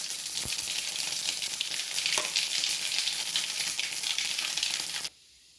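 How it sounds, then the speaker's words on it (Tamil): Mustard seeds sizzle and crackle in hot oil with a bright, steady frying hiss and a few sharp pops, close up, ending abruptly. "கடுகு போட்டுக்கலாம்."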